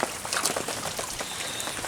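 Heavy rain pours down in a steady, close hiss with scattered distinct drop patters, lasting only a couple of seconds.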